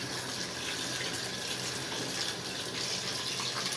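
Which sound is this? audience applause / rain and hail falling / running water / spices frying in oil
running water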